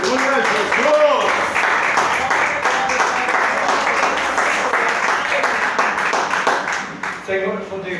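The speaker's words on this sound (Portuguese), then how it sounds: "Aplaudam a palavra do Senhor." A church congregation applauds in a dense, continuous wash of clapping with voices mixed in, fading slightly toward the end.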